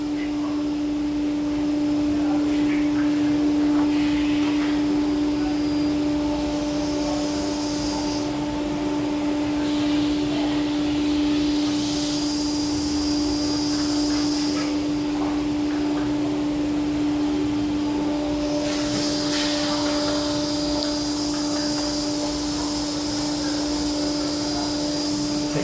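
Steady factory machine noise from an inline forehead plastic welder fusing plastic with heat plates, with a constant tonal hum and bursts of hissing, loud and continuous throughout.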